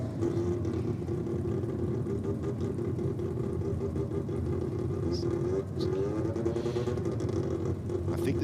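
A drag racing car engine hums steadily at a drag meet, a sustained mid-pitched drone heard from some distance with a slight rise in pitch near the end.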